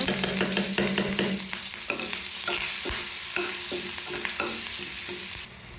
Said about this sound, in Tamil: கருவேப்பிலையை சேர்த்து நல்லா பொரிய வச்சுருங்க